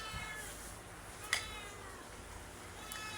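A cat meowing faintly at a distance, a couple of short, thin cries against quiet room background, with a brief sharp click midway.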